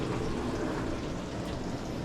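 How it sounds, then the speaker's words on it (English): Dishes being washed in a full kitchen at a Vancouver Island rental, a steady hiss of running water with faint clinking, constant and fairly soft throughout. "We're doing the dishes right now. That's what that noise is."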